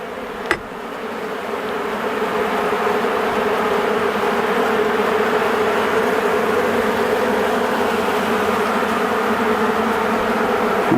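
Honeybees drone in a dense, continuous buzz around an open hive with no eggs or brood, close and steady throughout, with a single sharp click near the start.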